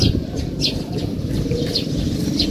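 Scattered high bird chirps ring out every half second or so against a steady low outdoor rumble, moderately close, with no voices.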